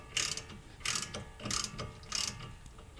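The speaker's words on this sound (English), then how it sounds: "Once it's loose, you're going to remove the nut the rest of the way." A hand ratchet turns the tie rod end nut on a 2002 Honda Odyssey, giving four close, evenly spaced bursts of clicking with short quiet gaps between them.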